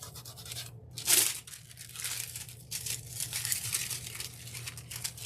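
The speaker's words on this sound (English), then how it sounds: "keep scrubbing some foil on here and it softens them a lot" Aluminium foil scrubbed and crinkled against a stone cup, close and fairly quiet, with a sharp tearing crunch early on followed by steady rustling scrapes.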